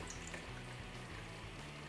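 Plain unflavored Absolut vodka pours into a punch bowl in a quiet, steady liquid stream with a faint gurgle, close by, with no voices.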